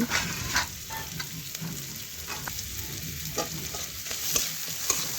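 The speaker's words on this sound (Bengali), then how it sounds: "টমেটো একটু ভেজে নিচ্ছি এ দেখুন এইভাবে নাড়াচাড়া করে" Chopped tomato sizzles in a pan of hot oil alongside onion while a spatula scrapes and stirs it, producing a steady close frying hiss broken by repeated light scraping taps and no speech.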